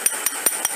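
A small hammer taps a punch while cuticle nippers are sharpened: four evenly spaced, bright metallic taps, close up, over a steady background hiss.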